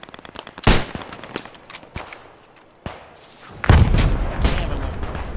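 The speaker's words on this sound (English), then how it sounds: "Let me get him, I'm gonna snipe him" Gunfire in the video game Post Scriptum: several sharp, loud rifle cracks spaced irregularly, some followed by a booming echo, over faint background battle noise.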